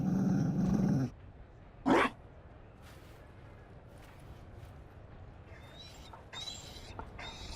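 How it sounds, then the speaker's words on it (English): A Mabari war dog growling in the Dragon Age video game, a short close growl and bark at the start, then a quiet stretch with faint game ambience. "You found a dog."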